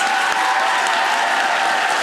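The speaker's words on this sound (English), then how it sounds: "Let's give them all a warm round of applause, guys." A warm round of audience applause for contestants at a speech night event, dense, even clapping filling the room without a break.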